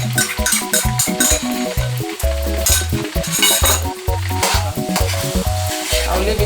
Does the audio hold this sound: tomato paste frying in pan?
yes